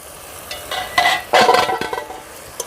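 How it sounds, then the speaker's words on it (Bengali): Banana flower is stirred in a cooking pot with a spoon, making a few scraping, clattering strokes that come in short close bursts separated by brief pauses. "ভালো করে নেড়ে চেড়ে দেখবো কতটা সিদ্ধ হয়েছে মোচাটা"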